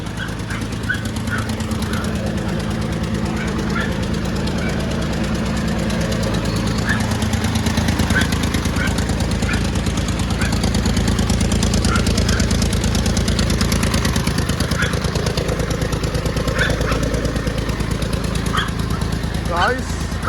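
A motorcycle or small vehicle engine idles and chugs steadily after a push-start, loud and close, with voices and other noise around it throughout.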